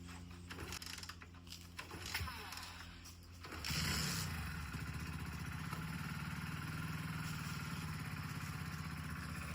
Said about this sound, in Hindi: ये बिल्कुल प्योर इंजन की आवाज़ है।